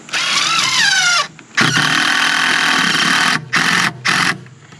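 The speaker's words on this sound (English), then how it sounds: "the very first black walnut we stuck on the mill itself, my neighbor Ricky brought it over" A sawmill engine runs loudly and close while cutting a black walnut log, with a whining rev at the start, then a long sustained roar broken by brief pauses and short bursts.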